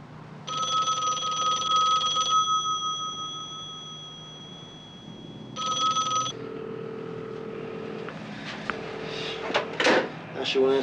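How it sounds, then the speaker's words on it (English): A telephone bell rings in two bursts, a longer ring followed by a shorter one after a pause, fairly loud indoors, with voices and movement after the second ring. "Phone."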